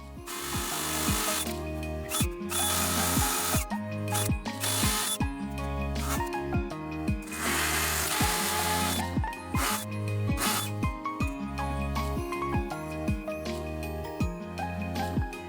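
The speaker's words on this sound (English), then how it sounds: "and to drill the holes for those." A power drill boring holes for attachment brackets during an old house renovation in Chiba, Japan, its loud motor running in repeated bursts with short ratcheting pauses throughout, no voices.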